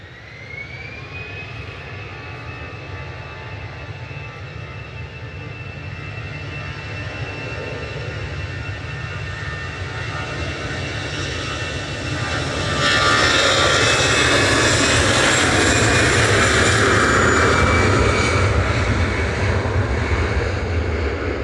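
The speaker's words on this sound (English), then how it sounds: "EasyJet on the roll." An easyJet jet airliner begins its takeoff roll at Manchester Airport, engines spooling up with a rising whine and then surging into a loud, broad roar that holds steady to the end, heard alone without voices.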